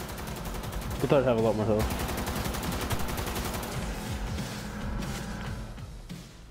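Rapid gunfire from the video game Cyberpunk 2077 rattles in dense, continuous bursts, with game music and effects underneath and a voice talking over the shooting.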